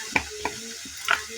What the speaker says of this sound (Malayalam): അത് ഇളക്കി വെച്ചു.